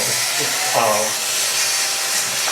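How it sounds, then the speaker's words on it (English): A 40-year-old lathe spinning as a custom wooden pen is sanded with sheet sandpaper, a steady close whine and hiss lasting throughout while a person speaks over it. "I'm using a 40-year-old lathe."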